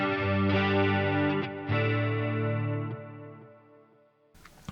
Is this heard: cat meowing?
no